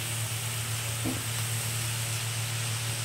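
Whisked yogurt added to spices frying in a pan over a very low flame, giving a faint, steady sizzle under a constant low hum with a brief stir partway through.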